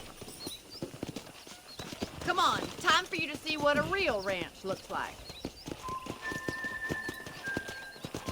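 Steady clip-clop of horse hooves at a walking pace in the video game Red Dead Redemption, with a horse whinnying partway through while someone talks over it.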